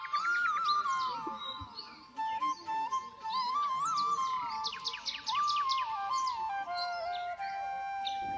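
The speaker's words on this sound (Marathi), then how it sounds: "पक्ष्यांचा किलबिलाट किती सुंदर वाटतोय ना" Small birds chirp and twitter near a Hanuman temple in a calm, clean riverside area, a continuous stream of sharp tweets and whistled calls close by over faint background hum.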